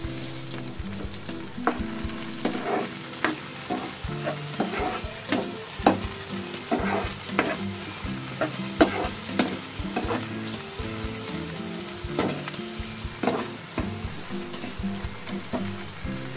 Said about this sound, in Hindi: लाइट फ्राई कर लेंगे प्याज को साथ ही इसमें ऐड कर लेंगे टमाटर